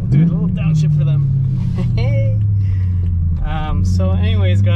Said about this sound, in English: we'll do a little downshift for them